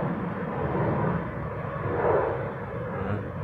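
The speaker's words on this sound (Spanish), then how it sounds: "Ese sí es un avión que va temprano, va despegando." A jet airplane takes off before dawn near West Palm Beach, Florida, its engine roar a steady distant rumble that swells slightly and holds, with no talk over it.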